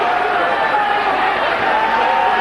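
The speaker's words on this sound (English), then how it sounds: "the crowd becoming animated" Boxing crowd at the 1997 Henry Akinwande versus Scott Welch fight, a dense, steady roar of cheering and chatter filling the arena without letup.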